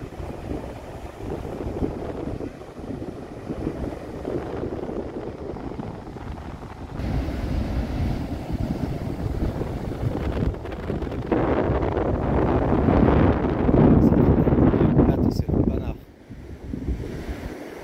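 Strong wind buffets the microphone on an open beach at Cordoama near Portimão, with a steady roar of gusts and surf that swells louder toward the end before easing off.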